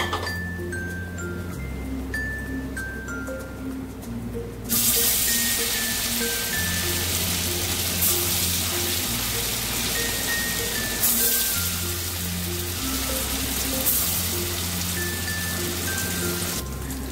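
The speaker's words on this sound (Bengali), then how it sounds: "এইভাবেই আমি সমস্ত মুইঠাগুলোকে ভেজে নেব।" Soya muitha balls frying in hot oil over low heat, a steady dense crackle and sizzle that grows louder partway through, with faint background music and no talk.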